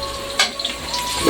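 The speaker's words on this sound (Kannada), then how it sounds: "ಹಸಿ ವಾಸನೆ ಹೋಗೋವರೆಗೂ ಮಾತ್ರ ನಾವು ಫ್ರೈ ಮಾಡ್ಕೊಳ್ಳೋಣ." Onions frying in a pan for sambar, a steady close sizzle with a soft stirring scrape partway through, continuous and fairly loud for just over a second, no talking.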